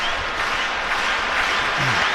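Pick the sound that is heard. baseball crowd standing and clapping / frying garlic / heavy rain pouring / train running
baseball crowd standing and clapping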